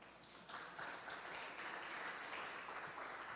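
A church congregation applauds at a Portuguese-language sermon on overcoming depression, a steady, fairly quiet wash of clapping that swells after the first half-second and continues evenly to the end.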